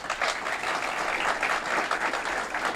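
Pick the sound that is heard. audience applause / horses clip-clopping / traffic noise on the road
audience applause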